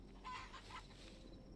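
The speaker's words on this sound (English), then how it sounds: "Chickens." Chickens in the Hytale video game, a short burst of clucking that is fairly faint and close, with no talk over it.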